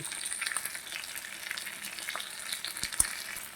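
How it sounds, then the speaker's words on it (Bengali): A katla fish head fries in hot oil in a home kitchen, a quiet, steady sizzle with scattered pops and a sharp crackle near the end, heard without talk. "খুব সুন্দর করে মাছের কাটা ভাজা হয়ে গেছে"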